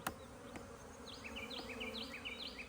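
Bees buzz steadily around an opened beehive nuc during an inspection, a dense close hum with individual insects whining past, plus a couple of faint knocks from hive handling.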